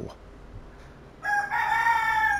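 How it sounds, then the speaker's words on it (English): A rooster crows once, loud and close, its drawn-out harmonic call beginning after a quiet stretch and carrying to the end. "this rooster does not crow till I start my recording right now"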